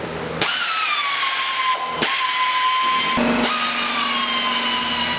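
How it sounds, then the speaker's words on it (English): A power tool whines loudly and continuously while loosening the driver's-side header bolts on a Corvette C6 LS engine, its pitch dipping and restarting in a few bursts with brief gaps between them. "I'm loosening the header bolts on the driver's side"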